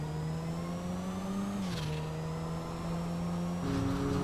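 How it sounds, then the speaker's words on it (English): A Mini John Cooper Works in GTA V drones with a steady turbocharged engine tone, pitch dipping and climbing slightly as it shifts, with faint whooshes layered over a continuous whir. "It's got the turbo noise."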